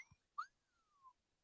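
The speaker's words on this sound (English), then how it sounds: "that was a whistle" A high toy whistle blows twice, a short bright chirp followed by a long steady tone that slowly drops in pitch, fairly faint.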